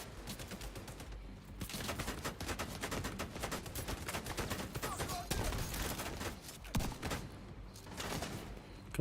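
Automated turrets in The Division 2 pour out sustained rapid gunfire, a dense stream of sharp cracks hammering continuously with brief lulls, loud and close, with faint game chatter underneath.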